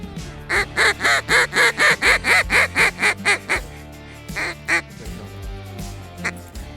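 Goose calls during a waterfowl hunt: a loud, close run of about a dozen rhythmic honks, then a short pause and a few more scattered calls.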